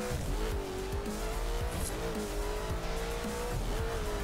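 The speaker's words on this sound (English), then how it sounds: "Sounds like pretty much every V8 car in this game" A video game V8 race car engine drones steadily with rising and falling pitch as it shifts gears, tires squealing intermittently, loud and close.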